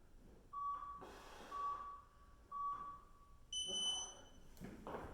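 An interval workout timer beeps in repeated short electronic tones at a steady rhythm, with the last beep sounding higher, while a person talks quietly underneath.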